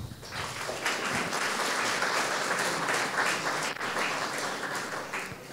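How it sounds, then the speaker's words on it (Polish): An audience applauds steadily for about five seconds at a commemorative event honouring the late Colonel Ryszard Kukliński, with dense, sustained clapping from a crowd and no speech over it. "Jemu też się należą oklaski."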